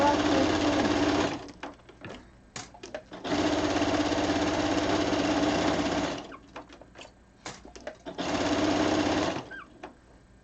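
A sewing machine stitches fabric in three long bursts of steady, close motor whir, with short pauses and small clicks in between.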